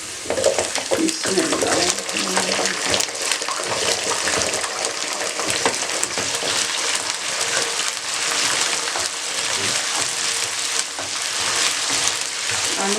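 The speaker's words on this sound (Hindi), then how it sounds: "आलू को आपने चंद सेकंड के लिए फ्राई करना है" Potatoes frying in a pot of hot oil for a peas, carrot and potato pulao, a loud, dense, continuous sizzle with stirring, while someone briefly speaks.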